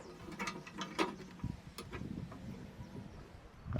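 An axle slides through the holes of a Vevor dry line chalker during assembly, producing faint, close metallic scraping and clicking with a few sharper knocks, irregular and quiet.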